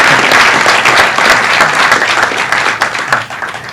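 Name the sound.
audience applause at art exhibition award ceremony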